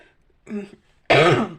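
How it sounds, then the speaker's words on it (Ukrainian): A short throat-clearing sound followed by one loud, harsh cough, close and alone. "якийсь такий кашель появився"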